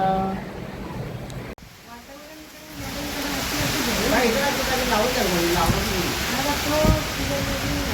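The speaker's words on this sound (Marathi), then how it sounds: "भयानक खतरनाक पाऊस" Heavy rain pours in a dense, steady hiss after a brief quieter start, while someone talks over it.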